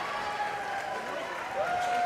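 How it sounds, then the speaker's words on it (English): A packed gym crowd at a girls sub-state basketball final, Girard Trojans against Linn Jayhawks, roars from the far side in a dense, sustained wash of cheering and clapping, heard at some distance. "The crowd on the far side of the gym goes crazy."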